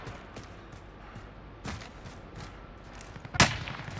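Gunfire in an online battle royale video game, a few faint distant shots followed by one sharper close report near the end, over quiet background.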